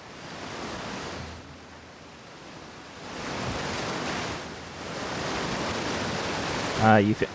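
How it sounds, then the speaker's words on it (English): A roaring waterfall in the Outer Wilds video game, a broad surging rush that swells and eases in waves, loud and close, ending with a short burst of voice. "Okay, behind the waterfall."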